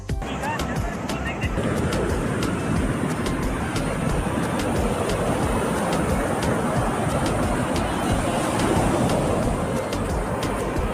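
Sea waves wash up a beach toward the shore, a steady loud roar of broadband surf filling the whole stretch without clear breaks.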